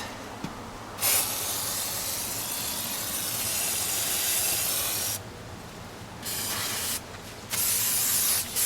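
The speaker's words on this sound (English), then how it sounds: "you want to give her a washing with your brake cleaner" Brake cleaner sprays onto brake parts in long pressurized hisses, several bursts with short pauses between, loud and close.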